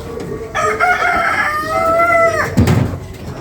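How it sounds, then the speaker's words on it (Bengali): A rooster crows one long, drawn-out call among penned chickens kept near pigeons, with scattered clucking and fowl noises before and after the crow, fairly close and clear. "মুরগিগুলো অবশ্য আজকে আটকা রাখছি"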